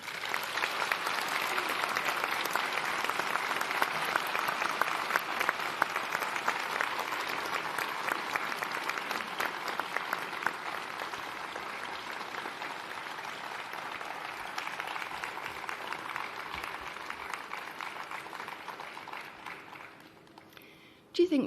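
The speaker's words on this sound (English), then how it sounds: "could we have a big round of applause?" An audience at a university graduation ceremony gives sustained, loud applause that fills nearly the whole stretch before stopping abruptly at the end.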